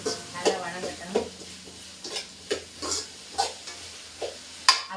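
Onions and chicken frying for a chicken gravy, with a spatula stirring in rhythmic strokes roughly every half second, each scrape standing out over a soft sizzle, close and without talking.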